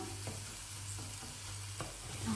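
Rice being stirred in a pan with olive oil and vegetable broth, with a soft continuous sizzle and scraping spoon strokes at an irregular pace, close and fairly quiet, no voices.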